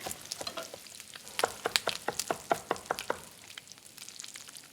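Bacon frying in a pan, a low sizzle bed broken by a quick run of sharp scraping and tapping clicks as the pieces are turned, close and moderately quiet, with no talking.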